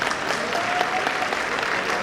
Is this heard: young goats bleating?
no